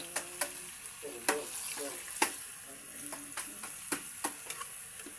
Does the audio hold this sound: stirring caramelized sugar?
yes